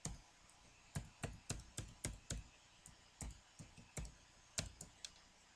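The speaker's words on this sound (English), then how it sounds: "And let me try typing that again." Irregular bursts of keystrokes clatter on a computer keyboard, sharp clicks in quick clusters with short pauses between, close and clear.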